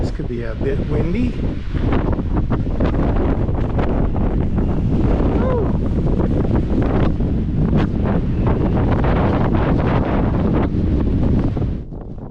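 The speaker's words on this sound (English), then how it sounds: "This could be a bit windy." Strong wind buffets the microphone continuously on an open wilderness hiking trail, a loud roaring rumble that stays steady for the whole stretch before dropping off at the very end.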